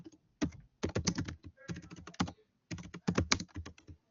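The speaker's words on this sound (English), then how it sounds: "The typing's gotten worse. Have you noticed that?" Rapid clattering keystrokes on a computer keyboard during a lecture, bursts of quick clicks separated by short pauses, close and fairly quiet with no voices.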